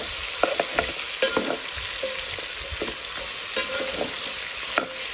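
Lardons frying in a pan for rabbit with prunes, a steady sizzle with scattered pops and scraping stirs, fairly close and alone without voices.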